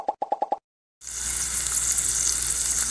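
Chopped onion and garlic hit a hot pan and start a steady, close, bright sizzle that continues evenly after a few quick plopping sounds and a moment of silence.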